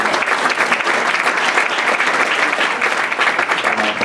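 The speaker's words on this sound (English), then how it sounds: "Come on, let's give him some applause." Audience applause at a church tribute for a pastor, a steady, loud and dense burst of clapping that continues evenly with no talk over it.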